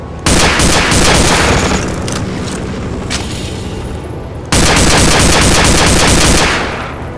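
Dense, loud gunfire from Soldier of Fortune 2: Double Helix, rattling in two long sustained bursts split by a sudden jump in level, close and continuous with no talk.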